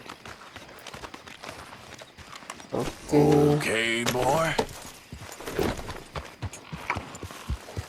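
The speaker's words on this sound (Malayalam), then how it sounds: "നമ്മൾ കുതിരനെ വിളിച്ചിട്ടുണ്ട്." A horse's hooves clip-clop in Red Dead Redemption 2, a run of steady hoofbeats near the middle amid game ambience, with someone speaking briefly.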